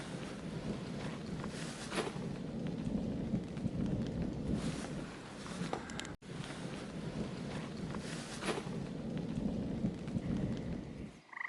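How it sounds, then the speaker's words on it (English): Thunder rolls and rumbles through steady rain outdoors in the Boundary Waters wilderness, a continuous low wash of rain with swelling peals, heard without any voices. "Yeah, with the rain, it is thundering."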